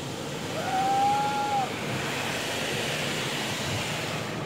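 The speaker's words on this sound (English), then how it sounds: "They're just rinsing." Car wash spraying rinse water over a car, a steady broad hiss heard from inside the vehicle, with a brief faint whistle-like tone early on.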